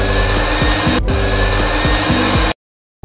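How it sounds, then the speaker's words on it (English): Electric grinder blending dates soaked in warm milk into a paste, a steady loud whirring motor with rhythmic chopping pulses that cuts off abruptly near the end. "After some time, grind and make dates paste and keep aside."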